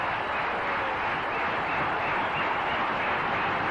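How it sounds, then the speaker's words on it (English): A cricket stadium crowd in Sharjah, 1991, India versus Pakistan, applauds a bowler reaching his fifty, a dense, steady wash of clapping and crowd noise that holds evenly throughout with no pause. "An applause which he thoroughly deserves."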